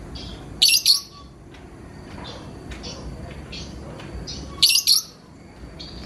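A pet lovebird lets out two loud, shrill bursts of chirping several seconds apart, close to the microphone, with quieter faint calls and room noise between them.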